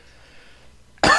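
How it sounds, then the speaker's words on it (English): A single sharp cough bursts out close and loud after a second of near-quiet room tone. "I'm coughing like crazy."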